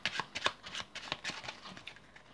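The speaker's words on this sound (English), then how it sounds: "Spectators can shuffle the cards." Playing cards shuffled by a spectator during a card trick performance, a quick run of crisp riffling flutters and soft slaps, fairly quiet and close, with no talking.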